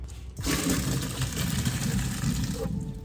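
Cool tap water pours steadily over drained noodles in a kitchen sink, a loud, continuous rushing that starts abruptly and runs to the end without talk.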